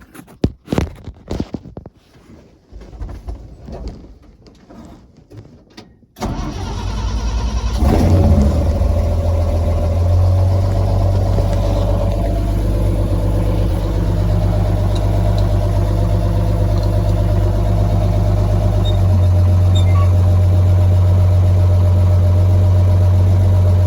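An S160 engine cranks in several uneven bursts while the choke is worked, then catches and runs at a loud, steady, close idle with a deep continuous drone.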